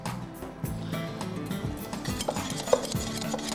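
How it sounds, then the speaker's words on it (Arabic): Tahini and yogurt being stirred together quickly in a bowl for a Levantine mashed eggplant dish, with a utensil scraping and clinking against the bowl up close, steady and busy, with no talking. "نبدأ عملية خلط سريعة"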